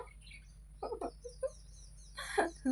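A caged bird gives short, scattered chirps and tweets against a quiet, humming background, close by and in irregular bursts.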